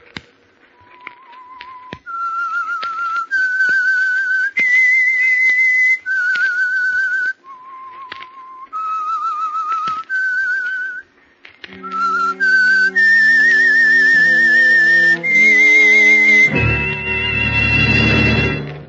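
The opening theme of the radio program The Whistler: a clear, loud whistled melody of sustained notes stepping up and down, joined partway through by a swelling orchestral chord that ends in a crash.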